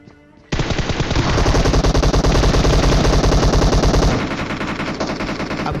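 Rapid automatic gunfire in PUBG, a dense burst of shots fired close and loud for about three and a half seconds, then fading into a lower rumble.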